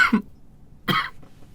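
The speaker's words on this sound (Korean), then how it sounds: "이렇게 기침을 하고 그러니까 그렇죠" Two sharp, close coughs separated by a short pause, loud and dry, with a faint trailing throat sound after the second.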